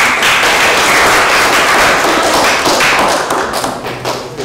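A classroom of students claps loudly for a presenting group, dense, rapid clapping filling the whole stretch at high level before easing slightly at the end.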